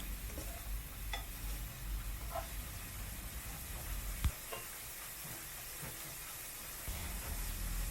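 Minced pork stir-fries in a pan with steady sizzling, occasional scrapes and stirring clatter, close and continuous throughout.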